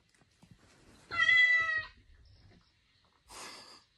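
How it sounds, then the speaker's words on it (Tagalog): A recorded cat meow plays from a phone or speaker, one long drawn-out harmonic call followed a second later by a shorter, breathier meow, with quiet room noise between them. "Cat sound."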